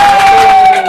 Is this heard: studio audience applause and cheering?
yes